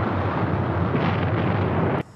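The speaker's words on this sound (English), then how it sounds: "Other volcanoes explode." A volcano erupts explosively, a loud, dense, continuous roar of blasting and rumbling that cuts off abruptly near the end.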